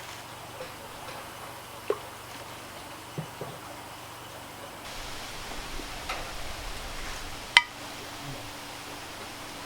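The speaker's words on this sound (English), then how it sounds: "that's the sound of the jar sealing once it sucks down with the sealant" A glass canning jar lid pings as it seals after water bath canning, a single sharp metallic tick standing out clearly near the end over faint background noise and a few smaller soft clicks.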